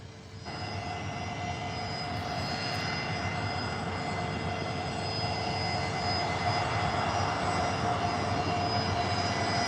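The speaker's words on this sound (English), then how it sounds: "We'll wait till after this plane lands" A fixed-wing airplane lands at San Diego airport: a steady broad engine roar, heard from a distance and holding at an even level throughout, with no talk.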